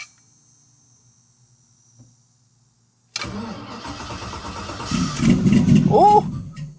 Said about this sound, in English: Oh, hey, that starter kicked it up.